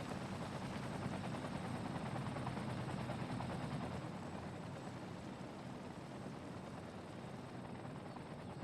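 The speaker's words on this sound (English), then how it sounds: "That's what the helicopters are for." Helicopters flying over a fire-hit city in the game Cities: Skylines, a steady rotor drone at moderate level throughout with no talk.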